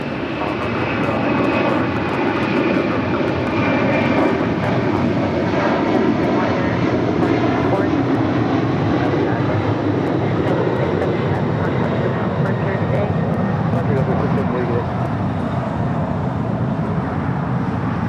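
An airliner taking off from LAX runway 25 right, a loud sustained jet engine roar with broadband rushing noise and a faint whining tone, steady throughout, heard from nearby without voices.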